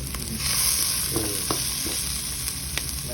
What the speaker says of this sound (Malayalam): ഉള്ളി വാട്ടി കൊണ്ടുണ്ട്.